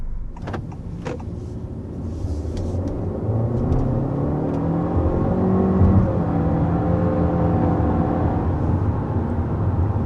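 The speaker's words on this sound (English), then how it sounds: "accelerating up to about 60 miles per hour with this all-new generation of the Civic" A 2022 Honda Civic sedan accelerating toward 60 mph, heard from inside the cabin as a steady engine and road drone that swells and holds, with a few clicks and knocks at the start.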